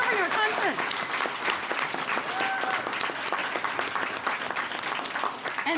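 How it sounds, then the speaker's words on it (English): Wedding guests break into applause for two active servicemen, a dense wash of clapping from a crowded room, steady throughout with voices and cheers mixed in underneath. "I think we need to give these guys a big round of applause for serving our country"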